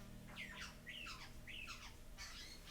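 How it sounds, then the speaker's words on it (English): A bird calling in the forest of Kinglake National Park, giving four short rising squawks in an even rhythm, faint and distant over a quiet background. "It could be a distant bird."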